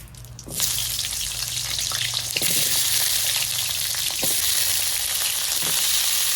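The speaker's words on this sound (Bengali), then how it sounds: "এবার আলুগুলো ভেজে নেব" Potatoes fry in hot mustard oil with a steady, loud sizzle and crackle that starts abruptly and runs on without a break, with occasional clinks of a utensil against the pan.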